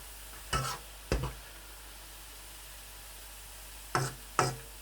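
Dahi phulkian fry in hot oil with a faint, steady sizzle, broken by four short sharp clatters of stirring or a spoon against the pan.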